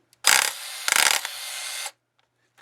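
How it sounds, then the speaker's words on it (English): An electric hammer drives a part into a Ferrari 430 Scuderia during clutch and gearbox work, with two loud close bursts of rapid mechanical impacts, the second sustained for about a second before stopping. "it goes right in with the electric hammer"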